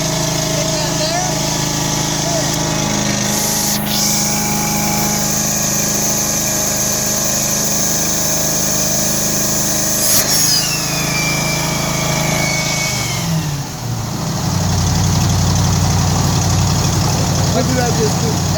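Carpet cleaning machine engine warming up at full throttle, a loud, steady high-pitched drone with a constant whine, shifting in pitch partway through as the throttle changes.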